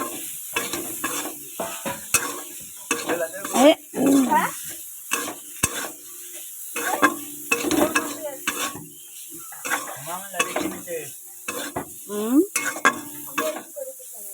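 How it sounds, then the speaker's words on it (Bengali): Green cauliflower is stirred and fried in a pan: frequent scraping and clattering strokes of a utensil against metal, close and loud, over a bright continuous sizzle. "এটাকে আমি সুন্দর করে নেড়ে ছেড়ে এটাকে নাড়াচাড়া দেব"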